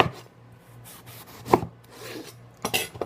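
A knife slicing skinless chicken on a cutting board, with soft scraping and rubbing strokes and a few sharper knocks of the blade against the board, close and sparse.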